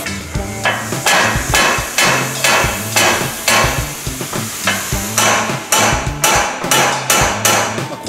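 A hammer taps steadily on the side of a RB1 Honda Odyssey's suspension knuckle from left and right: a quick, even run of a dozen or so close, moderately hard metallic knocks with no talking.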